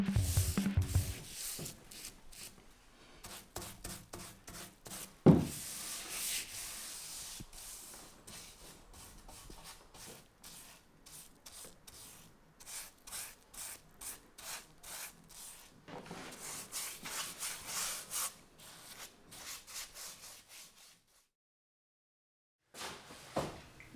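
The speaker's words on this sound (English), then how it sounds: "so we could sand everything with power tools and finally varnish it." A sander rubs across wood in long repeated passes, a close rasping whir that starts and stops, ending in a brief silence.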